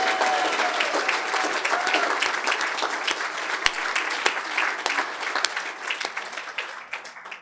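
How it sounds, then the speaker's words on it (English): An audience applauds ambassador Damien at a brain injury Wall of Fame event, many hands clapping densely and continuously with a few sharper individual claps, then thinning toward the end. "How about a round of applause for Damien,"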